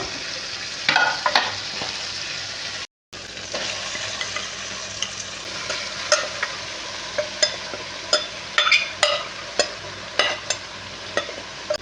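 Soybean chunks fry with tomato and green chili in a pan, a steady close sizzle broken by repeated spatula scrapes and taps at a loose rhythm, with one brief dropout near the start and no speech.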